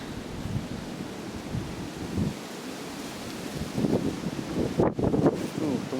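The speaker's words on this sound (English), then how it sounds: "the wind's picking up right now" Wind gusting outdoors in Indiana backwoods, rough blustery buffeting with microphone rumble that swells in uneven bursts, strongest toward the end.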